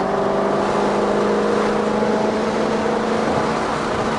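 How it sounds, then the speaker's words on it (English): A Shelby GT350R at Road America gives off a loud, continuous exhaust roar with a steady engine drone, close and alone. "the noise that comes out of the rear end of this car, it's like nothing else"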